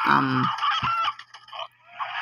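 Close, loud calls from a San Pedro chicken: a harsh squawk followed by a run of clucks and throaty cackles, with a low hum underneath.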